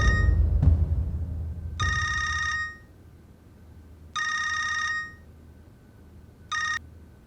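Telephone ringing in a Lahore household drama, three bursts of a bright electronic trill separated by pauses, the last one cut short, set against a low room murmur.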